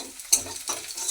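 Onions with a pinch of turmeric frying in a pan, a soft close sizzle broken by a brief sharp hiss and a scrape of stirring about a third of the way through.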